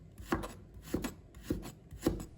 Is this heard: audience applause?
no